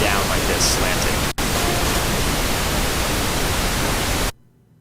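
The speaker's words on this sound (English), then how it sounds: "let me just show you what the pink noise looks like on the spectrum here" A steady hiss of pink noise test signal played through a music production setup, loud and continuous, heavier in the low end, with one brief dropout before it cuts off near the end.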